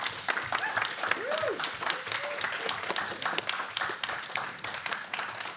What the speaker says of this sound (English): So big round of applause for our participants.